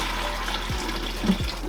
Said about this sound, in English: I'm gonna get this last little bit of dirty water out of here